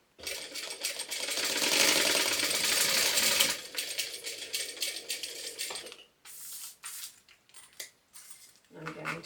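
A sewing machine stitches a clear vinyl pouch at a quarter-inch seam, running in a steady burst for several seconds, then stopping and restarting in short, clattering spurts with brief pauses between them.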